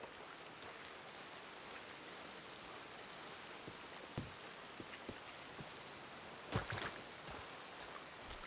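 Heavy rain falls in a steady, soft hiss that sounds fairly distant and quiet. A few louder drops and taps land now and then. No voices are heard.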